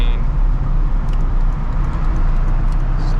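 Cabin drone of a Honda Integra with a GS-R engine swap driving along, a loud, steady low rumble of engine and road noise with faint rattles and no talking.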